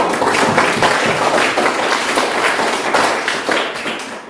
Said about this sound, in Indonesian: Tepuk tangan untuk anak didik.